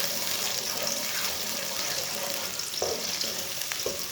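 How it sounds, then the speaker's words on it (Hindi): Finely chopped onion sizzles in hot oil in a pan, a steady close hiss with occasional stirring scrapes, no talking. "प्याज डाल लेंगे। प्याज को हल्का सा ब्राउन कर लेंगे।"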